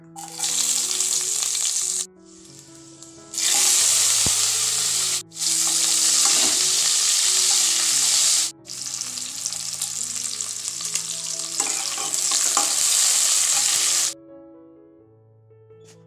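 Chopped garlic, onion and chilli fry in hot oil in a wok. A loud, close sizzle comes in several long bursts separated by brief quiet gaps, with soft background music underneath.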